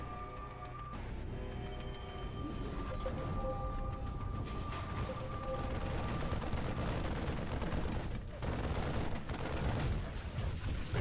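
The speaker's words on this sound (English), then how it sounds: "The purifier's about to fire." The purifier fires in StarCraft 2, a dense, loud, continuous barrage of blasts and rumbling booms that builds and holds for about eleven seconds, with no talking over it.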